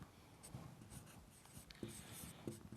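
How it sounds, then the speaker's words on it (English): Pen or marker scratching on paper during an economics lesson, a faint rhythmic series of short strokes and taps close to the microphone. "let me write it simply"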